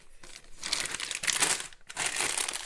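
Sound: crinkling bag of snacks being handled

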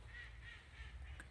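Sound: ducks quacking

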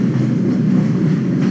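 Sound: tram ride in Black Mesa video game

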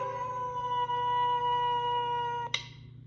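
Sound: gray wolf howling

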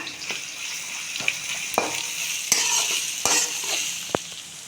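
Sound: onions frying with ginger and garlic in a pan

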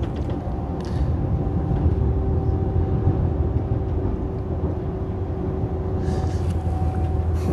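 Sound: train ride rumble

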